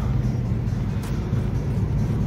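A car being driven to its technical inspection with the check engine light on, a steady loud low rumble of road and engine noise heard from inside, continuous throughout.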